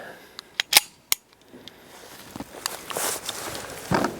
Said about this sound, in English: I'm going to shoot this in the tried and true 5-inch barreled Springfield Ronin.